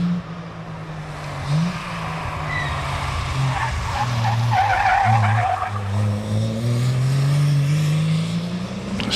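A 2.5 litre Triumph Special race car climbs a historic hillclimb course, its engine note rising and falling through gear changes with a brief tyre squeal, loud and close throughout.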